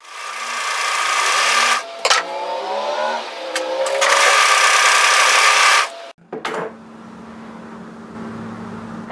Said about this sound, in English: we want to overlock tidy just this short edge at the top on both pieces